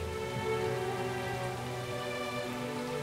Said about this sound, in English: Princess, it's raining heavily.